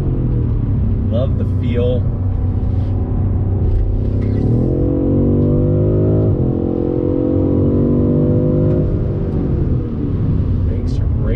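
A 2021 BMW M550i sedan accelerates at full throttle, its engine note droning steadily and climbing in pitch through a gear change, heard from inside the cabin with a brief remark spoken over it.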